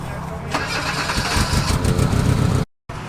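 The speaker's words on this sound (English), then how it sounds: "Oh, another Vitara in the background is limiter bashed." A Suzuki Vitara's engine revs hard in the background against the rev limiter, a loud, choppy bouncing roar that continues for a few seconds before cutting out briefly.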